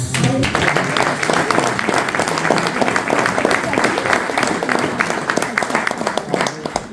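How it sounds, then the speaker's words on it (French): An audience applauds at a French tribute event, dense sustained clapping filling the room from start to finish, loud and close. "Nous pouvons les applaudir à tous."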